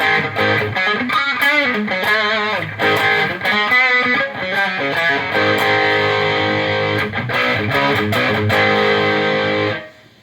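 Electric guitar played through a Bad Monkey overdrive pedal, giving a gritty, driven tone as chords and riffs ring out continuously for about ten seconds before stopping abruptly.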